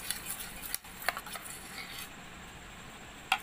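Paint is stirred into a Fevigum slime mixture, producing soft squelching, scraping strokes with a few sharp clicks of the stirring tool against the container.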